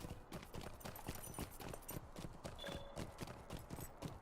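Horse hooves clip-clop steadily in the online game Lord of the Rings Online, a rhythmic run of fairly close, moderately loud hoofbeats over game sounds, with no talk.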